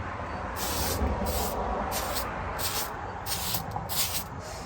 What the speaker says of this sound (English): you're going to spray an activator right over it